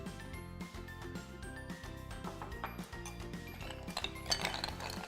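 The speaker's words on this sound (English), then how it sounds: "Let's put some ice." Ice cubes clink and rattle into a glass for a passion fruit iced tea, giving a dense, close series of bright glassy knocks that grows busier toward the end.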